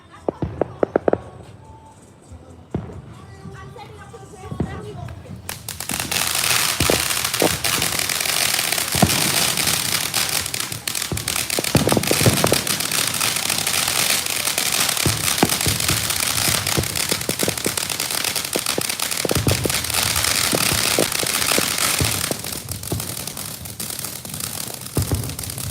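Backyard Fourth of July fireworks set off in a neighborhood: a few sharp pops and bangs, then a dense, continuous burst of crackling and rapid firecracker-like explosions lasting about twenty seconds, with people talking nearby.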